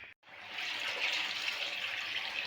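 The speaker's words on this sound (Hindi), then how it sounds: "ये सबसे पहले कीमे के लिए इसमें पानी डालते हैं।" Water poured from a cup into minced meat (keema) in a cooking pot while making spicy okra keema, a steady close splashing pour lasting about two seconds after a brief pause.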